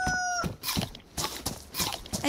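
Chicken clucking in the DayZ video game, a few short bursts spaced about half a second apart over faint background noise, with no talking.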